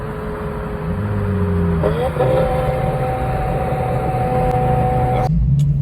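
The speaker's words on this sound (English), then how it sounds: "That's what Ferrari's supposed to sound like" A Ferrari's exhaust drones loudly and steadily nearby, its engine tone holding then stepping up in pitch midway before cutting off abruptly near the end.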